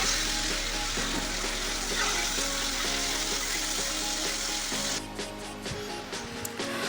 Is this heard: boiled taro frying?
yes